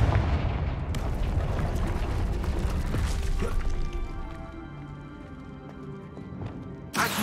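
A Confringo fire spell bursts during Hogwarts Legacy gameplay, a loud dense blast followed by a slowly fading rumble and crackle, with a sharp new impact right at the end.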